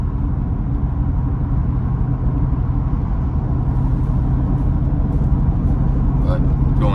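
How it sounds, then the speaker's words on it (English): Twin-turbo Corvette E-Ray with aftermarket blow-off valves, heard from inside while driving: a steady, loud low engine and road drone runs throughout, with a few brief higher hissing bursts near the end. "those blow-off valves are crazy loud"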